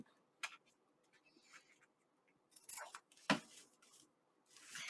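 Slightly dull scissors snip excess paper from a junk journal page, a few quiet, separate cutting sounds with faint rustling between them.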